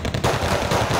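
Rapid bursts of machine gun fire in the video game Wargame: Red Dragon, loud and rattling continuously for about a second.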